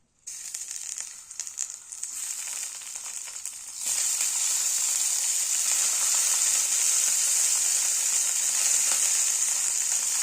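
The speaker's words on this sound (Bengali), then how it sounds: "এই কড়াইতেই আমি বেগুনগুলো যে কেটে রেখেছিলাম নুন হলুদ মাখিয়ে সেইগুলো ভেজে নেব।" Eggplant pieces coated in salt and turmeric fry in a wok. A quieter crackle swells into a loud, steady, close-up sizzle a few seconds in and keeps going evenly to the end.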